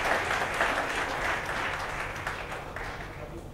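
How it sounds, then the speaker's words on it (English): An audience at a book launch applauds author Gunjan Jain, a dense, sustained clapping from a sizable crowd that stays loud throughout and fades only slightly near the end. "Let's all give a big round of applause to Gunjan Jain, an enterprising author."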